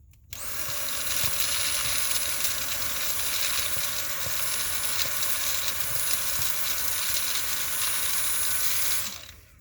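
A Dyson V7 handheld vacuum runs inside a car trying to suck up a piece of paper, giving a loud, steady high-pitched whine with a rushing airflow hiss that starts abruptly and cuts off near the end.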